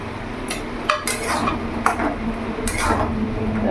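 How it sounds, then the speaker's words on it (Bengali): A spoon stirs taro curry with green chillies and hilsa fish head in a pot, giving scattered close scrapes and light clinks against the metal over a low, steady background hum. "ভালো করে নাড়াচাড়া করে নেব।"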